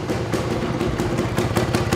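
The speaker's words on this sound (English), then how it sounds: "Idles perfectly. Listen to the exhaust note on this" A 1966 Greeves 24TFS trail motorcycle idling indoors, its two-stroke exhaust note a steady, close, loud burbling pulse with an even rhythm and no talking over it.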